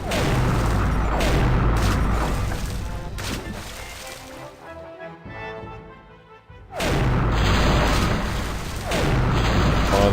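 Heavy cannon booms from a ship battle in The Curse of Monkey Island, loud and continuous with crashing impacts, easing into a quieter stretch midway before the barrage resumes at full strength.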